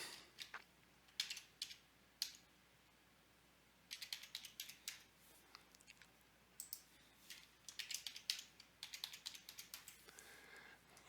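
Someone types a password on a computer keyboard: quiet, close bursts of rapid keystrokes separated by short pauses, with no voices.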